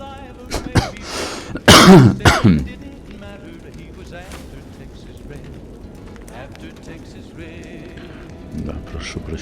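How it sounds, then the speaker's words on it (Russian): A few sharp, loud coughs burst out near the start, then fade into quiet background with faint murmuring and light noise. "Да, прошу прощения за кашель."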